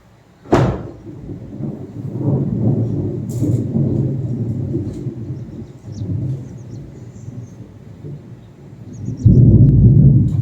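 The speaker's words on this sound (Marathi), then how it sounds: "आवाज येतोय ना गडगड ते चांगलंच" Deep thunder rolls in with a sudden crack, rumbling low and steady for several seconds before swelling louder again near the end.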